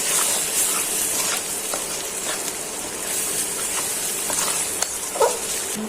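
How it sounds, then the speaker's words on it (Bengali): Turmeric, chili powder and salt sizzle steadily in hot oil as spices are stirred and fried for an egg bhuna, a continuous close crackle with soft scraping stirs and no talk. "এখন নেড়ে চেড়ে ভেজে নিচ্ছি"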